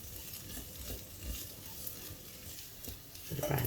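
Onions for an onion masala sauté in a pan, giving a steady, soft, broadband sizzle with faint stirring scrapes, fairly quiet and continuous with a slight rise near the end.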